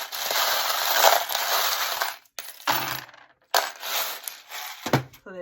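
Small metal charms rattle and jingle in a hand during a tarot-style reading, then clatter down in several close, bright bursts separated by short silences.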